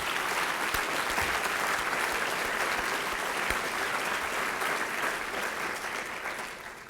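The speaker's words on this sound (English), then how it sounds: "give all of you, all of us, another round of applause for the work that's gone on this past year" An audience at Kansas State University's KSUnite unity event applauds, a dense and sustained clapping that holds steady for several seconds before starting to fade.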